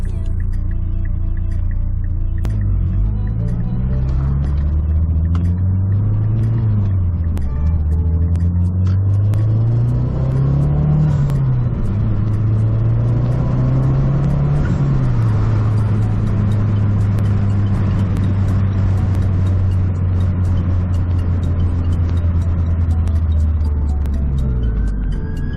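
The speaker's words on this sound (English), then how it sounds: "So I'm probably gonna do a pull right here. Nothing crazy, just a probably second or third gear pull." A Mazdaspeed3 fitted with a Grimmspeed electronic boost controller pulls hard through a gear, its loud, close engine note climbing and dipping in repeated sweeps over a steady low rumble, with no talking.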